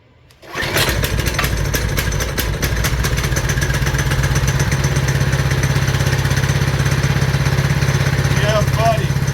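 A Coleman RSV 200 engine with a swapped high-compression head fires up and runs at a steady governed speed, a loud close rattling putter with fast regular clatter that continues unchanged to the end.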